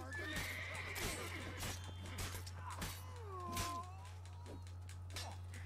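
A horse whinnies loudly several times while being ridden in The Witcher 3: Blood and Wine, with hoof clip-clops, a steady low hum underneath and faint game sounds around it.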